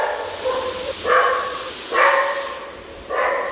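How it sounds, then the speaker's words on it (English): A Brazilian dog barks three times in spaced, evenly loud woofs, close by and alone with no talk. "There's a Brazilian dog barking"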